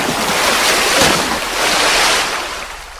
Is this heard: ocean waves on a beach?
yes